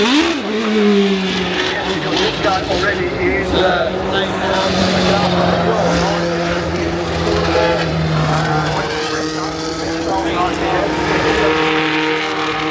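GT3 race car at the Goodwood Festival of Speed, its engine holding a loud, sustained note with rising and falling pitch sweeps, close by and running under steady talk throughout.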